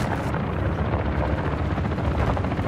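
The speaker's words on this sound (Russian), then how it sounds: "Наш вертолет со стрелком прибыл." Helicopter gunship in the video game Call of Duty Warzone 2.0 beats out a loud, steady rotor thump with a heavy engine drone, close and continuous throughout.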